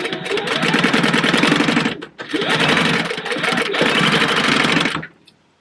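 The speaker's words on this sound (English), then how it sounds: "I'm just sewing them one behind the other, again, to save a little bit of thread" A sewing machine runs in two steady, loud bursts of rapid stitching, joining zipper pouch pieces for a wallet, with a brief pause between them and an abrupt stop near the end.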